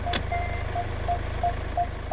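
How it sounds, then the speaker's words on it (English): A car's parking sensor radar beeping repeatedly, set off by a trailer sitting too close to the side of the car; short, evenly spaced tones over a low idling hum. "That's the radar. The trailer is too close to the side of the car. That's why it's still beeping."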